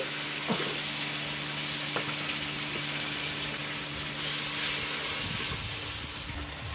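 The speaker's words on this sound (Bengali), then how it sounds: "মশলাটাকে একটু কষিয়ে নেব এই টমেটোটা গলে যাওয়া পর্যন্ত।" Turmeric, salt and spices sizzle in a pan with a little added water, a steady broadband frying hiss that swells louder for a couple of seconds midway, with a few faint clinks of stirring.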